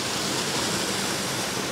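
Creek water rushes steadily beneath logs crisscrossed over the stream, a constant broadband wash with no pauses and no voices.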